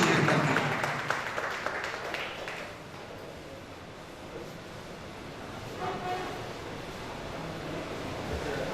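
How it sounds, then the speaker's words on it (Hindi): An award ceremony crowd applauds to welcome a guest onto the stage, a dense wash of clapping that is loudest for the first couple of seconds, then settles into steadier, softer applause. "जोरदार तालियों से स्वागत करें आप सभी और भैया को"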